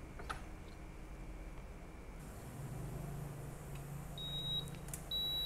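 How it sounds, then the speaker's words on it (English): Cuisinart vertical waffle maker signalling a finished waffle with short, thin electronic beeps near the end, over a quiet kitchen background hum. "It will start beeping when it's ready."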